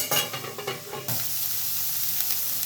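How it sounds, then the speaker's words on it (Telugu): Vegetable pieces with garlic fry in oil in a pan, first with stirring clatter, then a steady even sizzle once the lid goes on, close and moderately loud. "ఇవి బాగా మగ్గేంత వరకు కూడా మూత పెట్టుకొని వేయించాలి, మెత్తబడేంత వరకు కూడా"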